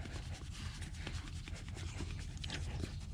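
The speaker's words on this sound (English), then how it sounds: "That's my dog Walter, for anyone who doesn't know." Walter the dog pants quietly nearby in quick, rhythmic breaths, soft and close with no talking.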